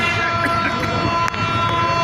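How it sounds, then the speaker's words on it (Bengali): A train's signal horn at the Hili border crossing between India and Bangladesh, a loud, steady, sustained tonal blare that lasts throughout, with faint background noise. "ট্রেনের সিগন্যাল শুনতে পাচ্ছেন"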